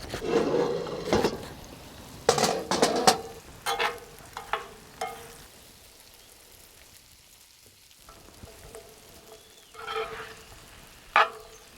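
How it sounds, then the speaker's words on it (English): Chopped beetroot stems sizzling in a pan over a very hot fire, with scattered clatters and stirring knocks, loud bursts early and late and a quieter spell in the middle. "I'm actually going to throw in some of the chopped beetroot stem into the pan and let that cook for a couple of minutes"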